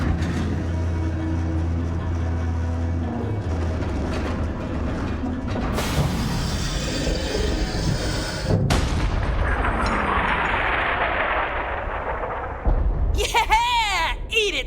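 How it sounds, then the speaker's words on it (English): A big cannon fires with a heavy boom amid ongoing game-like action noise, followed by rushing debris and crackling, with loud talking and music continuing underneath throughout. "You know how long it's been since I fired a cannon this big?"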